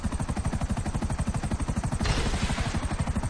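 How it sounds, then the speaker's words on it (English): Rapid, steady rotor chop from a helicopter in a video game runs loud and continuous throughout, with a brief burst of rushing noise partway through. "who's in the helicopter, sucker?"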